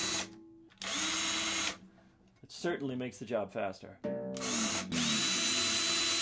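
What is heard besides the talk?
electric drill with guitar string winder loosening strings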